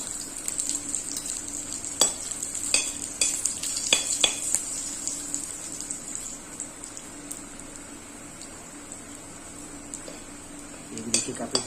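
Dried red chillies fry in mustard oil with garlic in a pan, a soft continuous sizzle broken by repeated scrapes and clinks of a spoon stirring against the metal, fairly quiet and close.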